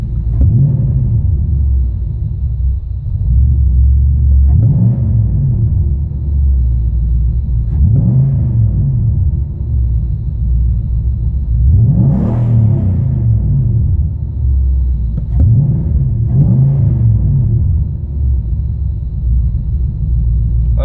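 Car engine idling with a low steady rumble, given several short bursts of gas that swell and sag back, sputtering as it threatens to stall; engine suspected of a faulty injector.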